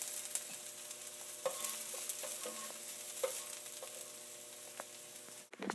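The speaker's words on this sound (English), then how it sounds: "using a spatula, I'm going to saute them for 3 or 4 minutes until they get tender" Onions sizzle softly in a pan as a spatula stirs and scrapes them at intervals, quiet steady frying with occasional sharper clicks, no talking.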